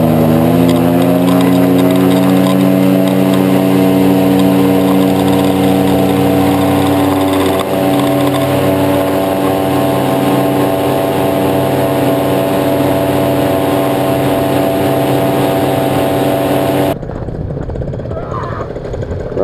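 Loud, close paramotor engine on a powered paraglider taking off near Lone Peak, Utah, a steady buzzing drone with harmonic whine that holds and shifts slightly in pitch, then cuts off abruptly near the end.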